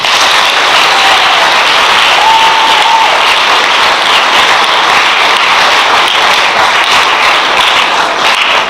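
Sustained applause from a sports awards banquet audience, steady and dense throughout, many hands clapping at once with no voices standing out.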